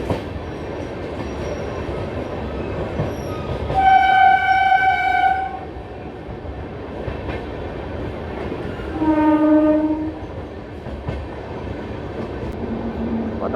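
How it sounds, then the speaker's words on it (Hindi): Intercity Express passenger train leaving Shakur Basti station towards Delhi, heard as a continuous rumble of wheels on rails broken by two loud, drawn-out horn blasts a few seconds apart. "चल चुकी अपनी ट्रेन शकूर बस्ती रेलवे स्टेशन से।"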